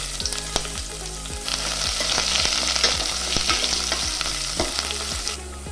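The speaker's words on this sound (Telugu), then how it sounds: "మసాలా దినుసులు కొద్దిగా వేగాక ఇందులోకి 2 పచ్చిమిరపకాయ చీలికలు, ఒక మీడియం సైజ్డ్ ఉల్లిగడ్డ చీలికలు వేసుకోవాలి." Green chili slivers and sliced onion frying with whole spices for a coconut milk pulao: a steady, loud, close sizzle crackling throughout with repeated stirring scrapes and no talk.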